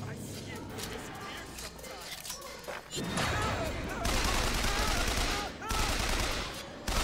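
Gunfire in the video game BioShock Infinite: rapid bursts of shots and impacts crackle in loud, dense volleys that grow heavier toward the end, with a voice talking faintly underneath.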